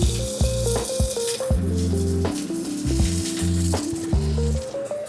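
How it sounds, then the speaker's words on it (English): About four ounces of pancetta sizzles steadily as it sautés toward crisp in a pan, a continuous hiss and crackle sitting under loud, stepping melodic music throughout. "In with about 4 ounces of pancetta, and we're going to saute that off until nice and crispy."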